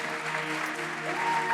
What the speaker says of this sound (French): Applaudissez encore pour vous-même.